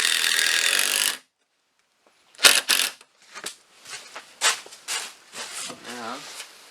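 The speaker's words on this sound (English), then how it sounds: "screwing it down." Boards of a raised garden bed inside a greenhouse being screwed down with a power drill: a steady whirring burst, a pause, then a series of short grinding and rubbing bursts at close range.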